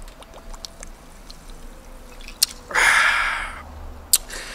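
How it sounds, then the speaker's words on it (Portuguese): Sparkling water is poured into a glass, a short fizzy splashing gush lasting a couple of seconds between a few small clicks and taps, heard close and alone. "Vou beber umas aguinhas com gás?"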